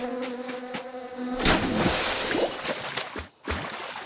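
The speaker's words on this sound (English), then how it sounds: "all the bees will evacuate within 10 minutes and never return" Bees swarming in a beehive make a dense, steady buzzing drone, loud and close, with some sharper bursts partway through and a brief dip near the end.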